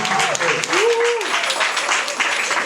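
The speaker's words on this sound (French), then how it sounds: "Applaudissez, applaudissez." Guests at a Pointe-Noire wedding keep up a loud, continuous round of applause while a voice speaks over the clapping and a brief rising vocal tone cuts through early on.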